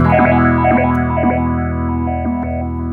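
Guitar notes through a Spaceman Explorer phaser pedal shimmer with a swirling, stepped modulation effect, the tone dipping and sweeping in a regular pulse about twice per second, with no voices.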